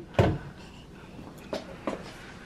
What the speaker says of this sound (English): Shut the other door.